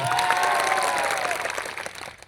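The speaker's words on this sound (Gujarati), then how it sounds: "ત્યારે સૌ માટે એકવાર જોરદાર તાળીઓ પણ લે" Applause from a large crowd at a political gathering, dense clapping that starts strong and gradually thins and fades over a couple of seconds, heard alone without speech.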